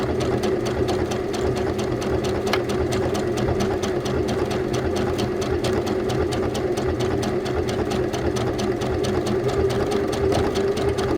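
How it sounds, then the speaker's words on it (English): A sewing machine runs steadily and slowly on a shirt hem with a triple straight stitch, giving a continuous loud, close mechanical hum with a fast, even ticking rhythm throughout and no talk. "I'm doing the hem on this shirt and I'm using the triple straight stitch. So it does like 3 stitches and then it goes forward and it's so slow"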